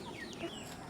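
Farm chickens around four months old cluck at feeding time in the morning, a quick burst of soft, nearby clucks lasting under a second.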